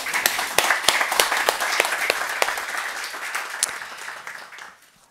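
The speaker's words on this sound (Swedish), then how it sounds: "och så ger vi dem en applåd" A seated audience at an Almedalen panel on a new national park claps in a lively round, individual sharp claps audible through the roomful of clapping before it fades out near the end.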